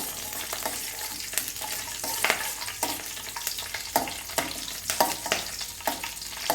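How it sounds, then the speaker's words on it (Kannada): Curry leaves, cashews, cumin and pepper fry in hot oil in a pan, giving a loud, crackling sizzle with frequent spattering pops and scraping stirs throughout. "ಕರ್ಬೇವಿನ ಸೊಪ್ಪು ಗೋಡಂಬಿ ಇಷ್ಟನ್ನು ಹಾಕ್ಕೊಂಡು ಚೆನ್ನಾಗಿ ಫ್ರೈ ಮಾಡ್ಕೊಳ್ಳೋಣ"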